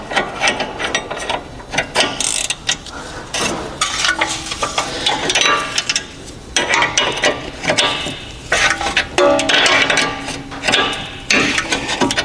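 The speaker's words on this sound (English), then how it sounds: "Now I need to hold the ball joint itself so it doesn't rotate, and then undo this" Close, loud ratchet clicking while a ball joint nut is undone on the lower control arm of a 2010 BMW 650i, in rapid repeated bursts with brief gaps, alone and without talk.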